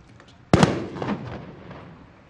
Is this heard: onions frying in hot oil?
no